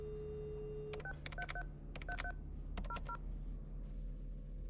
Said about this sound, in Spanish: toma el teléfono y llama a emergencias domiciliarias